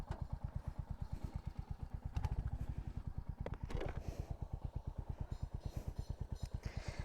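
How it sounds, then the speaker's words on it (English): A Royal Enfield Hunter 350 motorcycle engine idles with a steady, rapid thumping exhaust pulse, close and even, with a brief rev partway through. "let me crank it up because I wanna hear the exhaust note."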